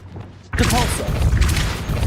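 A Depulso force spell is cast in the video game Hogwarts Legacy: a loud, abrupt thumping burst that cuts in after a quiet lead-in, then sustains as dense rumbling impact noise with spoken voices mixed through it.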